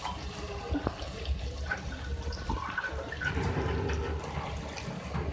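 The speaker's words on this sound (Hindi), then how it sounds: "थोड़ा सा पानी ऐड कर रही हूँ।" Water poured into a pan of frying spices and coriander powder for beef and potato korma, a steady watery splash and hiss filling the clip alone, with no talk.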